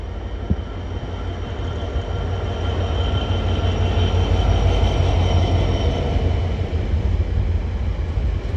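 A train passes Clay Cross North Junction with a steady, loud rumble of wheels and rail noise, heard close and continuous with no talking.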